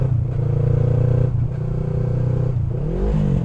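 A car engine hums and revs in steady bursts, dropping and surging as a downshift is missed and the gearbox slips briefly into neutral, loud and close with a rising rev toward the end.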